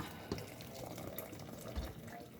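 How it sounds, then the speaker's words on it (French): Boiling water poured into a cooking pot of Moroccan harira, a soft, steady liquid splash and trickle, fairly faint, with a couple of small clunks. "on prend l'eau bouillante et on le met dans la cocotte"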